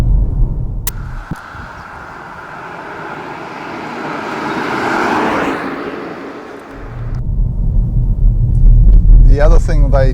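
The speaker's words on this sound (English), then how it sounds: "There is a bit of road noise, but it's certainly probably a lot quieter than your normal petrol type vehicle." Road noise inside a moving MG4 electric car on a worn chip-seal road, a steady low rumble that swells and eases, with someone talking over it at the end.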